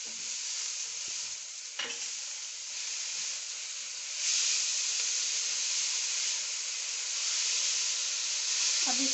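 Soy sauce hits a hot pan of egg fried rice with a steady, bright sizzle and hiss, swelling louder partway through as stirring continues; a voice speaks faintly under it.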